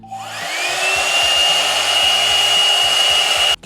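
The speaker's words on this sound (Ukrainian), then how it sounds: "Тобто, виходить, ви собі зачісуєте і одночасно тут фен фігачить вам." A hot air brush, a girls' styling accessory that also releases steam, spins up and blows a steady loud whir of air for about three seconds before cutting off abruptly.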